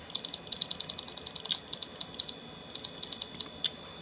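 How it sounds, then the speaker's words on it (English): Repeated short menu click sounds from the classic Mac OS Platinum sound theme while scrolling through a menu, crisp and fairly quiet, arriving in quick irregular bursts with brief gaps. "when I scroll through this menu, it doesn't, like, click on every single menu I scroll through"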